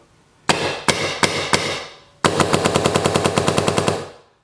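A 2010 Dye DM10 paintball marker with a suppressor fires four spaced single shots, then a fast rapid burst of about fifteen sharp, loud, close pops.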